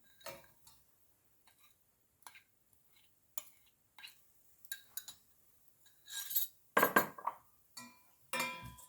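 A spoon clinks and taps against a pot as chopped jaggery is stirred into gooseberry pickle, giving sparse, close ticks that build into a busier scraping and clattering near the end.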